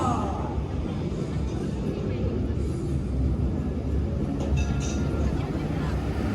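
Heavy military transport trucks for Indonesia's Ministry of Defence rumble past in a steady parade, a continuous low engine drone with faint crowd babble in the background.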